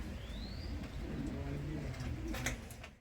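Pigeons coo softly on a rooftop loft kept by a Punjabi pigeon club, low throaty calls repeating under steady background noise, with a few brighter chirps near the end.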